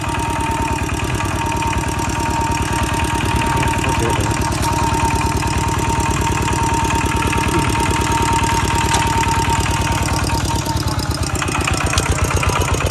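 A tractor engine idles steadily and loudly up close, with a fast regular chugging throb and a faint high whine throughout.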